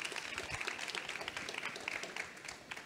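Audience applause following an interview at a talk event, a dense, steady patter of many hands clapping at moderate distance, fairly faint and sustained for a few seconds without voices.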